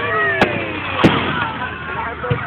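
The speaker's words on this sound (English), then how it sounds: "There's some good explosions." Two sharp booming pops of Fourth of July fireworks in Santa Maria, California burst a second apart, followed by a fainter crack, over a steady crackling background with whistling trails.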